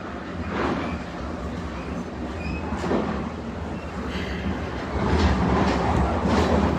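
A train ride, with a steady rumbling roar of the rolling carriage, low and continuous throughout, growing somewhat louder toward the end, with no talk.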